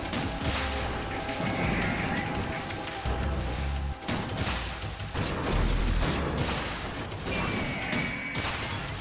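Dense, continuous gunfire and bursts of automatic fire in Metal Gear Solid 2: Sons of Liberty, with crashes and impacts layered throughout, loud and sustained across the whole stretch.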